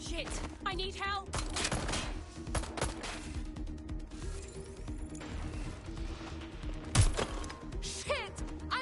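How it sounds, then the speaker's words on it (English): Gunfire erupts during a street shootout in the game Watch Dogs: Legion. Scattered shots and bursts crack over a busy background with crashes and thuds, one heavy bang stands out, and voices talk through the chaos. "I'm getting shot at here!"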